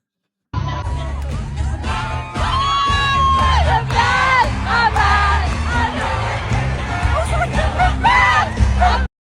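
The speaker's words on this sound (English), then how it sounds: "the crowd was this lit for the end of the movie" A movie theater crowd cheers and whoops loudly at the end of the Michael movie, with shouts and excited voices layered over booming music, rising in waves.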